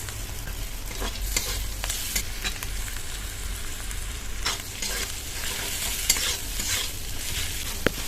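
Mashed boiled potato and spices being stirred and fried in a pan over low flame for kachori filling, a steady soft sizzle with scraping stir strokes throughout, no talking.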